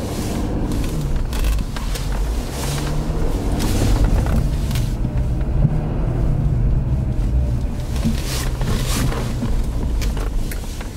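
Road traffic rolls past a railway overpass, a steady loud wash of engines and tyre noise with several vehicles whooshing by close in succession, no talking over it.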